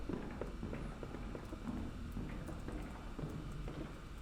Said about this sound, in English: I heard the footsteps, so he's probably in here right now.